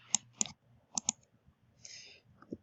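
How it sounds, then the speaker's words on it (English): Computer keyboard keys clack in a few sharp, close taps, a select-all shortcut pressed with Control and A, followed by a faint soft rustle and one last click. "That's holding down the Control key and typing the A for Select All."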